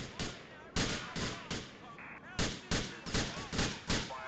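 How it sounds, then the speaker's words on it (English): Gunshots in the video game GTA 4 ring out as about a dozen loud, sharp cracks in an irregular sequence, some spaced apart and some in quick pairs, close and dominant. "Who's shooting me?"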